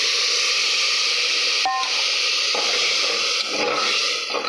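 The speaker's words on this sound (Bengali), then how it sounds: "জল ঢেলে দেব।" Water goes into a hot pan of frying mung dal with carrot, giving a continuous loud hiss of steam with a brief clatter of the vessel partway through.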